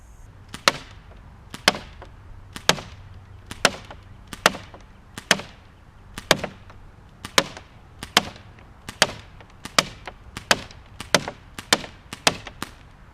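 Daisy 74 BB gun shots striking a door, about fourteen sharp, close cracks fired at a steady pace roughly one per second, each a crisp snap with a brief woody thud.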